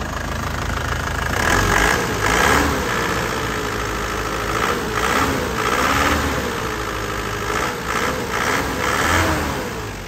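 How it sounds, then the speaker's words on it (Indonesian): A black 2011 Toyota Grand Touring turbo (Panther) diesel engine idles nearby, a steady rough mid-pitched rumble with a slight rhythmic knock and small swells in level, no talking. "Suaranya renyah khas Panther ya."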